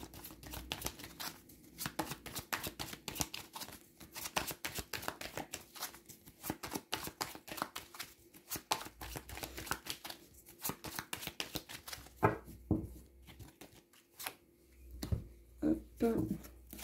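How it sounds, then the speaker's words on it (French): Oracle cards being shuffled by hand, a long run of rapid papery riffles and slaps in uneven bursts close up, with a voice talking at the end. "je vais prendre quelques petites cartes"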